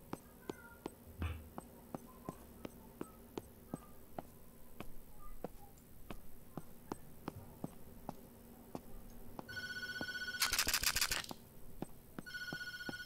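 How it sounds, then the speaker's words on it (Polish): A telephone rings repeatedly in the horror video game Tattletail, steady evenly spaced rings across the scene, joined near the end by a brief loud electronic burst and a higher ringtone-like tone. "Nie odbieramy telefonu."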